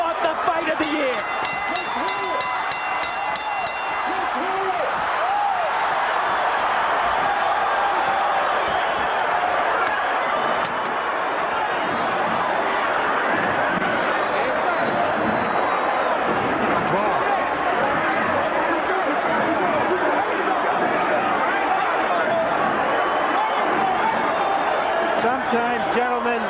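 A boxing crowd rises to its feet at the Evander Holyfield vs Riddick Bowe rematch in 1993, a dense, sustained roar of cheering and hubbub with a commentator talking over it throughout.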